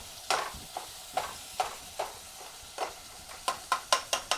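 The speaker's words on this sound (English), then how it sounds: "Let's stir this ground beef here." Ground beef is stirred in a pan with a utensil, producing a series of sharp scraping strokes at an irregular beat. The strokes quicken toward the end over a faint sizzle, and nobody speaks.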